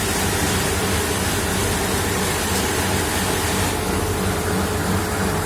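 A Cotraydi drum washer, a Uruguayan-built machine adapted for rectangular jugs, runs steadily with a loud, continuous wash of churning water over a low mechanical hum, with no voices.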